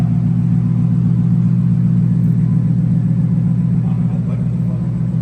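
A heavily modified 2014 Ford Mustang GT engine idles steadily with a deep, low rumble and faint pulsing, continuous and loud throughout, with no other sounds breaking through.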